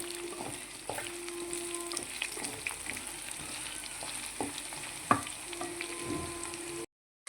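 Chicken pieces fry in a pan for chicken pulao, a moderate sizzle with spatula scrapes and knocks as it is turned, a sharp clank near the end before a brief cut to silence.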